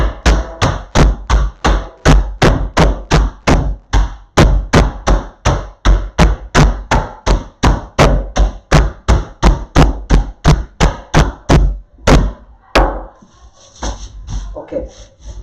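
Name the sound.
crushing ice for a gin mojito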